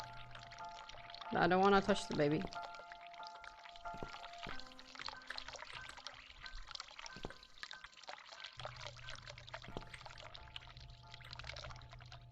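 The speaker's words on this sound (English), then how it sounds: "Can you hear the water running?" Water runs softly in The Cat Lady game, a faint continuous trickle under a brief spoken line near the start, followed by a low steady hum and light clicks.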